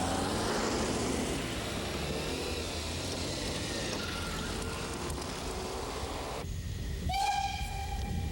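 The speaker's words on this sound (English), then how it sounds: "As the train approached the halt at Nebitchen" A train in former East Germany rumbles steadily as it approaches a rural halt, with a whistle sounding briefly near the end.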